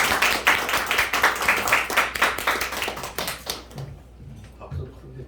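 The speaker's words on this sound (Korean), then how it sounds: "우리가 큰 박수로 환영하겠습니다." A church audience applauding in welcome for a pastor, steady dense clapping that fades out after about four seconds, leaving a few scattered claps and low room noise.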